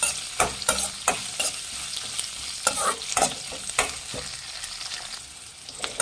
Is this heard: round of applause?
no